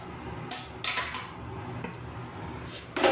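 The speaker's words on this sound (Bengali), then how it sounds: "এবার পাকা আমগুলো দিয়ে দেবো।" Ripe mangoes being placed into a pan of hot oil with whole mustard seeds, producing a few distinct metallic clacks and soft sizzling bursts close up, with no talk.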